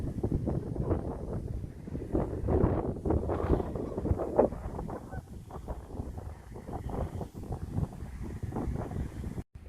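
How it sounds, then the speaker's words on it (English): Gusty wind buffets the microphone outdoors beside water on a disc golf outing, a loud, ragged roar rising and falling in irregular bursts for several seconds, cutting off abruptly at the end. "It's just a little windy today."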